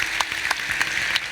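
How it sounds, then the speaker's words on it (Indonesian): A talk-show audience applauds in a continuous, dense wash of clapping that stays at an even level, with a few sharper individual claps standing out. "Beri tepuk tangan yang meriah."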